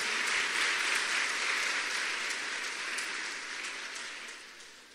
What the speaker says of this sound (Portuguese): Se for para o Senhor, aplauda mais forte em nome de Jesus.